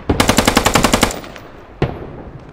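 A machine gun firing in the shooter game Squad: a rapid, loud burst of about a dozen evenly spaced shots, a decaying echo, then one more single report.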